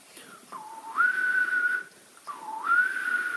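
Someone whistles in a musician's lesson on hearing and singing, with two sustained tones that each dip and then rise to a held pitch, close and fairly soft with no talking.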